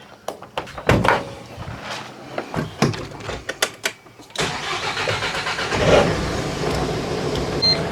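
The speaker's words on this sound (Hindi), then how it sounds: "बाकी अभी वैन को भी स्टार्ट कर लेते हैं एक बार।" A camper van's engine is started: a series of clicks and cranking knocks, then the engine catches and settles into a steady rumbling idle.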